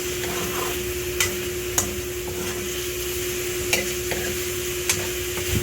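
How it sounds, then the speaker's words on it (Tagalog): Tofu and pork frying in a pan, a steady sizzle under a humming tone, punctuated by occasional sharp clacks of the utensil as the mixture is stirred. "Haluin hanggang sa nag-blend ang flavor."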